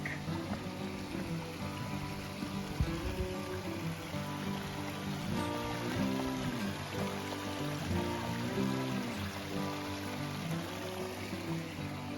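Creek water from Laurel Creek flows steadily beneath a footbridge on a mountain trail, a continuous rushing wash under layered chirping birdsong, with no talking.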